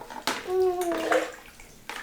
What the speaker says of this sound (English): Now Mira is pouring the water into the pool.